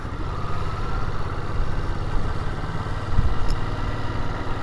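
A Ducati motorcycle with a quiet Euro 5 exhaust, its engine running steadily at low speed with a soft, even drone, fairly subdued and without strong revving.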